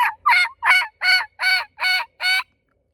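Seven evenly spaced raspy yelps from a hunter's turkey call imitating a hen, each note breaking from high to low, loud and close, in a quick steady rhythm before falling silent.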